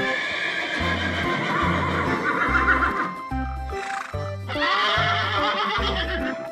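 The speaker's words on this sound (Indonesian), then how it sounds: "Di sini ada kuda." A horse at an animal park whinnies loudly and close, with shrill neighs rising over a steady, evenly spaced low thumping that sounds like hoof clops, with no voices.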